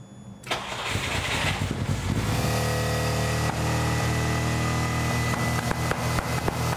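A Ferrari Dino 246 engine cranks and catches, then runs unevenly at idle with a rough, irregular beat. The sound is close and loud, with no talking.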